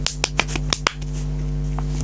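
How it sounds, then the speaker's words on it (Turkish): A handful of sharp, separate claps for a brother, about six quick slaps in the first second, then fading over a steady low hum. "Alkış yapıyoruz abime"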